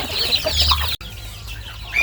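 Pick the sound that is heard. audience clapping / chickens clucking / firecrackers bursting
chickens clucking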